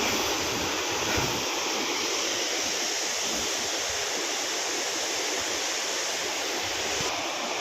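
Tarabu waterfall drops from a great height, giving a constant broad roar of rushing, crashing water that stays steady throughout with no voices.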